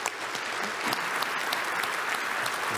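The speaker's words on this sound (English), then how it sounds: "let's just give him another round of applause." Luncheon attendees give another round of applause for keynote speaker Chief Trevor Makadahay, steady, full clapping from a seated crowd filling the room throughout.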